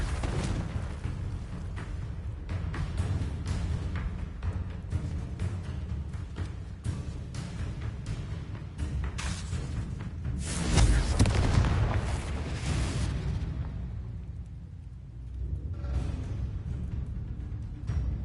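A Confringo explosive spell blasting in the Hogwarts Legacy video game, heard as repeated booming bursts over a dense, continuous battle din, with one especially heavy blast standing out near the middle.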